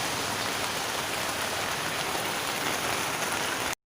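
Heavy rain pours down at an outdoor market in Vientiane, Laos, a loud, dense, unbroken hiss of drops drumming on surfaces that stops abruptly at the very end.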